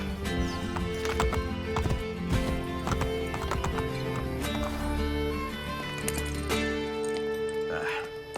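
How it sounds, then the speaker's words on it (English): Horse hooves clip-clop steadily in Assassin's Creed Brotherhood, with a neigh breaking through over the game's music bed for the full stretch. "I have lost his favorite horse. Do not despair. I will bring it back."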